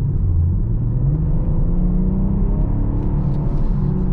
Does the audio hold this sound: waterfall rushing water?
no